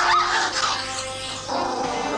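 A dog barks and yips in a funny animal compilation. The barks are loud and close and come in quick, high-pitched bursts, heard alone without talk.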